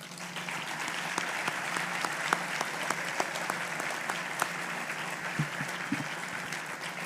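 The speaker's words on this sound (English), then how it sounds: "So may I ask for a round of applause to recognize tonight's honorees." A banquet audience at a foundation's winter gala applauds the evening's honorees, sustained dense clapping from a sizable room that stays even and full for the whole stretch.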